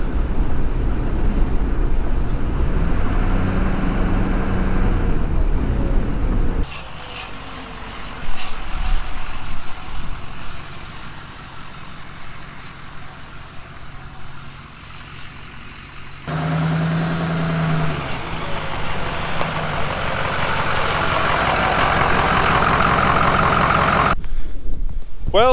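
A Ford F250 pickup's 6.0 Powerstroke diesel engine roars steadily as it drives, a loud continuous rumble with a high jet-like whine on top and a couple of abrupt shifts in tone.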